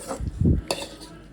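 Munakkaya fry, a drumstick stir-fry, is scooped into a serving bowl: a few close metallic scrapes and clinks of a spoon on cookware, with a denser clatter midway and a bright tap near the end.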